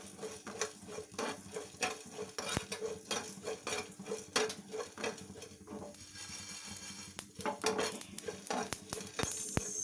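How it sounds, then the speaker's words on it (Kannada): Urad dal and cumin seeds being fried in a pan for sambar, with a quick run of metallic spoon clinks and scrapes against the pan over a faint sizzle, no talking. "ಅರ್ಧ ಟೀ ಸ್ಪೂನ್ ಬಂದು ಜೀರಿಗೆ ಹಾಕ್ಕೊಂಡಿದ್ದೀನಿ. ಇಷ್ಟನ್ನು ಫ್ರೈ ಮಾಡ್ಕೊಳ್ಳೋಣ."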